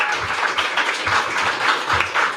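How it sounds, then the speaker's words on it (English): An audience at an evening tech meetup on AI for renewable energy claps for the first speaker, a dense, continuous patter of hands at moderate volume. "Give a big applause"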